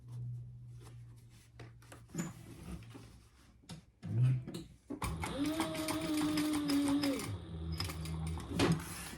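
A sewing machine stitches a crossbody phone bag, starting with a few short hesitant runs and then settling into a longer steady whirring burst, close by, with small handling knocks between.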